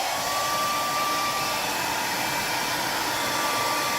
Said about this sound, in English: so let's see what happens with the hairdryer